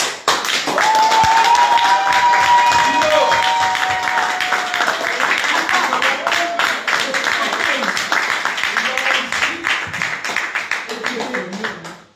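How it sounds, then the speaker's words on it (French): An audience at a patriotic association's installation ceremony in Paris claps loudly and steadily for several seconds, a dense wash of applause that slowly thins and fades out near the end. "Et je voudrais vous demander ici de l'applaudir très fort."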